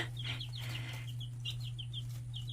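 Young chicks in a backyard coop give a run of short, soft, high-pitched peeps and clucks, repeated in quick bursts over a constant low hum, fairly quiet and close.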